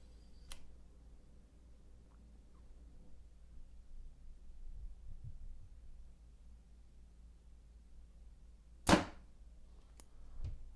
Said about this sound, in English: So arrow number 1 will be the gold tip X cutter, and I'm going to be shooting this at about 6 feet from the paper.